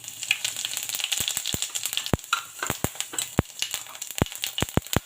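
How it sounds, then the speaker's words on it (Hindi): Cumin seeds sizzle and crackle in hot oil in a home kitchen pan, a steady close frying hiss broken by sharp popping clicks scattered throughout, with no talking. "ऑयल गरम हो गया है दोस्तों। अब मैं इसमें सबसे पहले 1 छोटा चम्मच"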